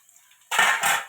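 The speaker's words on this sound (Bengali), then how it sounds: "ঢাকাটা খুলে দেখে নেব" A lid is lifted off a pan of frying potatoes, releasing a sudden burst of loud sizzling that pulses twice after a quiet moment.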